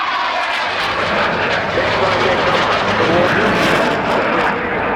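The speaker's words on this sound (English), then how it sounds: "Pulling the two aircraft round into a hard left-hand side." A Spitfire and a delta-wing jet pull a hard left turn together at the RAF Cosford airshow, producing a loud, steady, continuous engine roar throughout.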